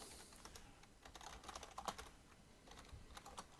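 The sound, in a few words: typing on a computer keyboard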